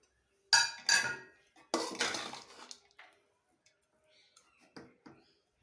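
A spoon scrapes and clinks against a pan as coriander is stirred into upma, a few sharp metallic knocks in quick bursts followed by softer, fainter taps, close by.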